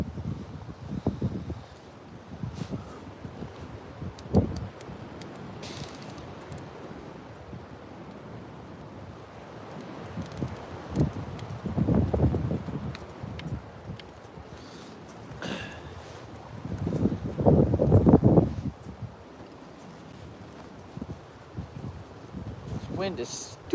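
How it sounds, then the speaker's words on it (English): Strong wind buffets the microphone on an open commuter rail platform, a steady low roar with louder gusts swelling around the middle and end, while someone talks over it at times. "hopefully you'll be able to hear me over this wind, because this wind is ridiculous."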